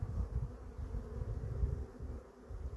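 Honey bees from weak, varroa-damaged colonies drone on a hive frame during colony merging, a low, continuous buzz that swells and dips softly, quiet and close with no talk.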